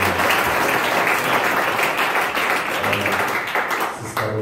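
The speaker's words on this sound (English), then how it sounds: "Let's give her a round of applause" A congregation in a church assembly applauds to welcome a returning sister, a dense, steady round of clapping from many hands that stays loud throughout before easing slightly at the end.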